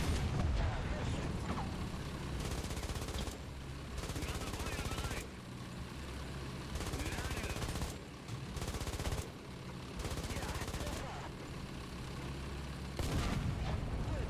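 Heavy, booming tank-gun reports and rumbling engine noise in War Thunder, with a HESH shell launcher firing several times. The dense, loud blasts keep recurring over a continuous vehicle drone.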